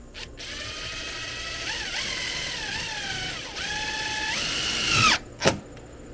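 A power drill drives self-tapping screws into a metal window frame during a plexiglass window repair, the motor whining and rising in pitch through several bursts before a final squeal and a sharp click, loud and close with no talk.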